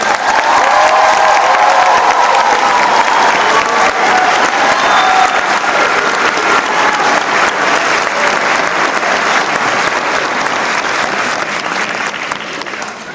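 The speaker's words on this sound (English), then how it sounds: "I know you guys just finished applauding" A graduation audience in Battle Creek, Michigan applauds loudly and continuously, a dense wash of clapping from a large crowd that holds steady and starts to fade near the end, with faint voices mixed in.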